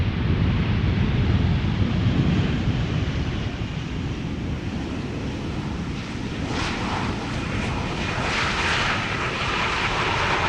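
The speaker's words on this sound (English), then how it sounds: "This is El Al flight 337, a 737-800 returning to Amsterdam from Tel Aviv" El Al Boeing 737-800 jet arriving at Amsterdam from Tel Aviv, its engines a loud, steady broadband roar close by, with wind buffeting the microphone throughout and no voices.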